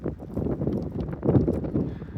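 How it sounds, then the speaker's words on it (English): Gusting wind buffets the microphone on an exposed campsite ledge during an April van-life trip, a steady low rumbling roar with a stronger surge midway and no talking. "I just wish the wind wasn't blowing me around"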